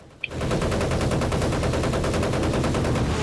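Anti-aircraft gunfire in the video game Battlefield 1943 starts abruptly after a brief click and continues as a loud, rapid, sustained rattling burst of automatic fire with no talk.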